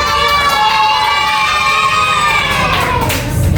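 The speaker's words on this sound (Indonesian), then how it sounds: "Tepuk tangan." Children in a classroom clap and cheer loudly together, a dense, steady mix of shouting voices and hand claps that swells throughout.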